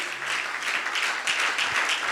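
A church congregation breaks into brief applause after a prayer, a short burst of many hands clapping at moderate volume with a low hum beneath.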